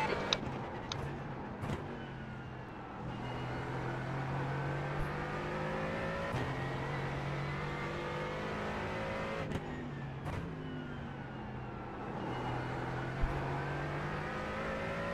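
LMP3 prototype race cars in iRacing, on the Long Beach street circuit, drone steadily with engines revving and shifting, several cars blending into a continuous loud roar with brief passing surges and no talking.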